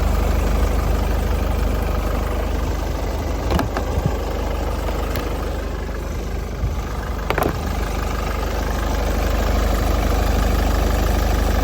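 A 2013 Ford Kuga 2.0 diesel with manual gearbox idles steadily and quietly, a low continuous engine hum held throughout with a couple of brief clicks, no talking.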